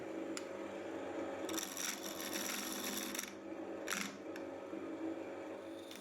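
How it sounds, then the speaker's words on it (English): A small hardwood Karuko pin is hand-carved from Lignum Vitae, with quiet, close scraping and rasping strokes coming in bursts against a faint background. "To bring this tool back to life, I'm carving a new Karuko, the small hardwood anchor pin with a steel needle at its tip"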